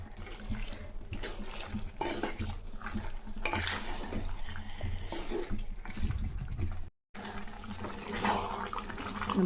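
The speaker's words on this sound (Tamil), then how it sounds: "தண்ணி ஊற்றாதையே இந்த கறியில் தண்ணி எப்படி சலசலமாக வருது பாருங்கள்" Chicken curry cooking in its own juices with no water added, giving a steady, dense sizzling and bubbling hiss that runs continuously throughout, broken by one brief silent gap.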